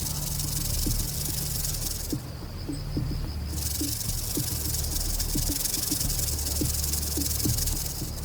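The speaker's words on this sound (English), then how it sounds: "When threatened or preparing to strike, the snake vibrates its tail up to 50 times a second, creating its characteristic sound" A threatened rattlesnake vibrates the hollow keratin segments of its tail rattle in a continuous, dry buzzing hiss that runs unbroken and loud throughout.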